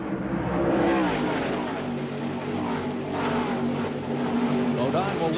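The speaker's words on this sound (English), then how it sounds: "Todd Bodine in the Phillips 66 car." Stock cars racing at Las Vegas Motor Speedway in the 2000 Sam's Town 300 Busch Series event, engines droning steadily with rising and falling pitch as cars pass, under continuous race commentary.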